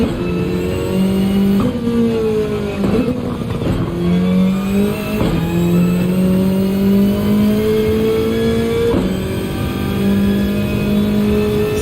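A racing car engine in Gran Turismo screams loudly and continuously, climbing through the revs with brief dips at several gear changes, and no voices over it.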